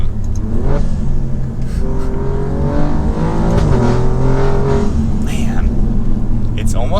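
A tuned 600 HP Alfa Romeo Giulia Quadrifoglio engine revs loudly from inside the cabin, pitch climbing and falling through gears in a sustained roar, with a voice briefly over it.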